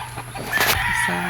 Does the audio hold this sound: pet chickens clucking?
yes